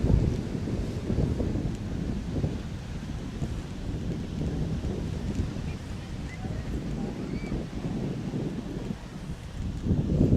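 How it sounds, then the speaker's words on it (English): Strong wind rumbles and buffets the microphone continuously at a stand-up paddleboard race, a low roar with faint background voices mixed in. "Holy cats, it got windy."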